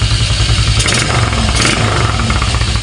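A washed motorcycle engine idles loud and steady, with a continuous throbbing rumble close by. The engine is low on oil and blows white smoke.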